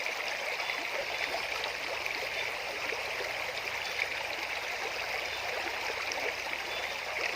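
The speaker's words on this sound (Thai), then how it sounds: "ได้ยินเสียงน้ำด้วย" A stream flowing beside a garden gives a steady, even rush of water over seven seconds, soft and continuous with a faint gurgle and no voices.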